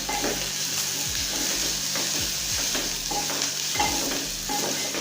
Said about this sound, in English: So now I'll add my ginger garlic paste, just a bit, and I'll continue to stir